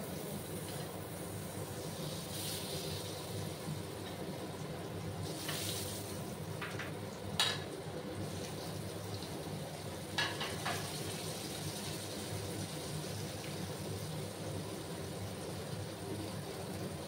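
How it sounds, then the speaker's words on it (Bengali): Long potato strips fry in oil left over from frying katla fish, giving a steady broad hiss that runs unbroken and fairly close, with a few brief clinks and knocks from utensils. "এভাবে লম্বা লম্বা করে আলুগুলো ভেজে নেব"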